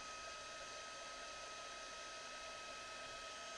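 A heat tool blows steadily on watercolor craft material, a constant whooshing, fan-like hiss with a faint whine, loud and close, running unbroken with no talking.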